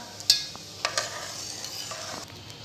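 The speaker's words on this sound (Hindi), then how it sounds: "चम्मच चलाते रहिएगा।" A spoon stirring a dessert mixture in a pan, with a few light scrapes and taps against the pan over a soft, low sizzle, close and fairly quiet.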